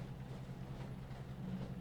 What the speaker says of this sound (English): The subtle sound of the train is all you hear as you slowly fall asleep.